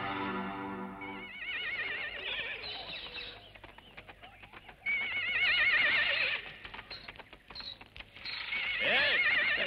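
Horse neighing and whinnying loudly in a busy film scene, with shrill repeated calls at the start and again midway and near the end, mixed with birds and chickens and some hoof clatter in between.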